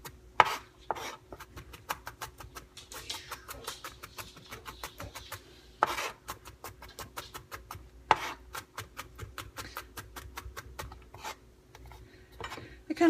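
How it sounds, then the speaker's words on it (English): A kitchen knife chops garlic on a cutting board in rapid, steady taps, close and fairly quiet, with a few louder knocks scattered between the quick rhythmic strokes. "kind of find it therapeutic to chop garlic and things"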